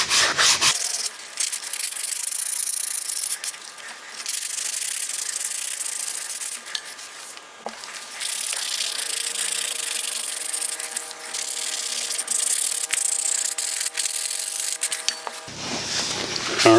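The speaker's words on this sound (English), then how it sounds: "so this sanding this coat should only take a couple minutes." Sandpaper rubbing over a primer coat on a 3D-printed part, a steady close scratchy scrape running almost continuously with brief pauses between strokes, no talking.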